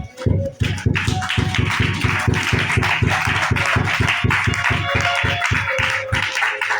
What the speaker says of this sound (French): Acclamons très fort la parole du Seigneur